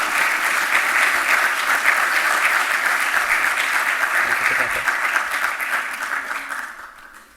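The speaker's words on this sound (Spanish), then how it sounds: "Les pido un aplauso para todos ellos." Audience applause at a Chilean business forum on climate action, a loud, even roar of many hands clapping that holds steady, then tapers off over the final second.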